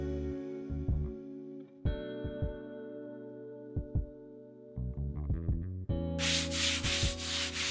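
Worn, cheap sandpaper scrubs across wood in steady back-and-forth strokes, a loud, close rasp that begins near the end after a stretch of tonal hum and scattered knocks.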